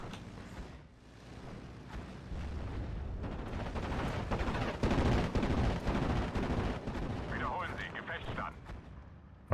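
Aircraft strafing run in the Steel Division: Normandy 44 war game, hitting a 17 pounder gun near Cheux: dense, sustained rattling gunfire and explosive rumble that builds loud and stays heavy throughout, with no speech over it.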